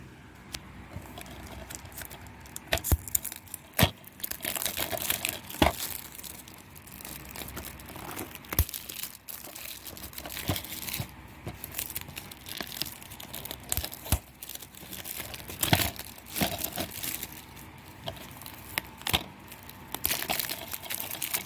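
An Oldies.com mail package is sliced and torn open, giving crinkling, rustling and sharp cracking bursts of cardboard and plastic over about twenty seconds, close and fairly quiet, with no talk.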